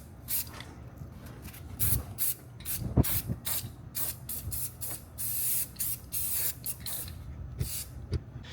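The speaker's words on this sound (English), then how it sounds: "now we're gonna just quickly spray this" Spray paint hisses in repeated short bursts onto a sanded car grille for an Audi SQ5, close and steady, with brief gaps and a few knocks between passes.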